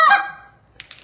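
A hand-blown goose call gives one loud, aggressive honk that fades out, followed by two short, fainter clicks, as used for calling late-season geese.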